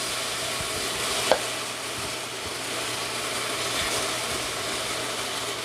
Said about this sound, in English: You're gonna let that pork get nice and brown.